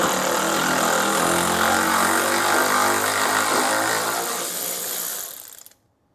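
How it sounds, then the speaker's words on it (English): A ratchet at work on bolts during a passenger fender removal on a Crew Cab Coronet makes a loud, steady mechanical whir close by that runs for about five seconds, then winds down and stops into silence. "I think I'm good to go at this thing with the ratchet"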